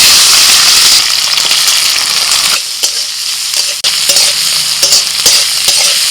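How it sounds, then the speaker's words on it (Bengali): Chopped onions fry in mustard oil in a wok, with a steady loud sizzle that thins partway through, plus clinks and scrapes of stirring close by and no voices. "পেঁয়াজ হালকা ভাজা হয়ে গেছে"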